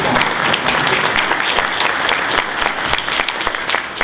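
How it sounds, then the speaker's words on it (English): Audience applause for the winners rings out close and loud, with crisp individual claps standing out over a busy, sustained clatter that continues without a break. "I'd like to ask everyone to give me one last round of applause to all these winners"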